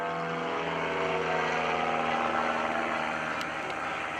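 Extreme Decathlon aerobatic trainer with a 30-horsepower boost, engine droning steadily and loudly through a roll at an airshow, a constant propeller roar with no talking.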